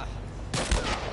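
A single sharp marksman pistol shot in The Last of Us Part I, a sudden loud crack with a brief boomy tail rising out of quiet game ambience.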